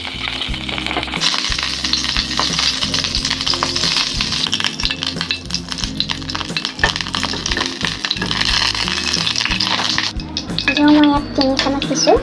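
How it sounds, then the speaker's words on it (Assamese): Ghee sizzling and frying in a pan while cooking Assamese-style masala paneer, a steady close crackle with a few metallic clinks, under music and a voice speaking. "এতিয়া মই দিম ঘিউ।"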